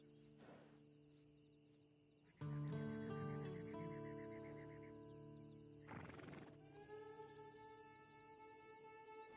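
A horse in the video game Red Dead Redemption 2 lets out a loud, close, drawn-out whinny, then a second shorter neigh, over quiet outdoor ambience with faint insects.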